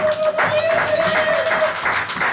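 Congregation at a Congolese church wedding applauding together, a dense, steady wash of clapping from many hands with a sustained tone and a voice mixed in.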